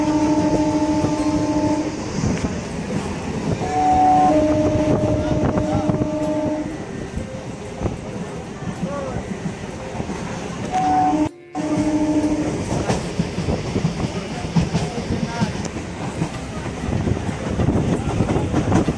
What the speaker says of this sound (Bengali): এই যে আমাদের যাত্রাপথের train, Sealdah two Namkhana local.